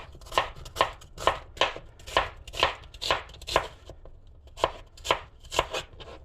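A knife chops onions on a cutting board in a home kitchen, a steady run of about a dozen crisp close taps at an even rhythm, with a brief pause partway through.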